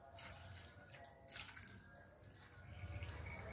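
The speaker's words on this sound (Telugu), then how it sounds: "సో ఇప్పుడు నేను ఇది డైల్యూట్ చేస్తున్నాను. అంటే కడుగుతున్నా." Tap water runs steadily into a sink as biochar is washed, producing a soft continuous splashing with faint drips and no talking.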